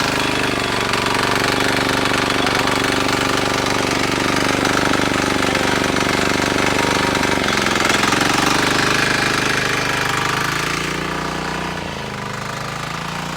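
A 7 HP engine power tiller plowing a field, its motor chugging in a loud, steady, close rhythm that dips slightly toward the end.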